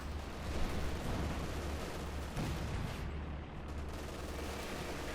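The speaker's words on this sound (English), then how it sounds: "Calliope unleashing hell upon the German positions" Calliope rocket artillery in the WWII strategy game Company of Heroes 2 pounds away in a continuous, dense roar of launches and explosions, loud and unbroken throughout.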